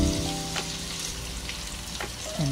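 Chicken pieces sizzle loudly in hot margarine with onions in a pan, a steady close frying crackle with a few soft stirring scrapes and no talking.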